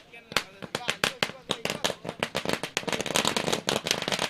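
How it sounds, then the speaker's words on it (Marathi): Firecrackers bursting at a cricket match, a rapid string of sharp loud cracks crowding closer together and louder toward the end, close by with no pauses. "फटाके की आतिशबाजी"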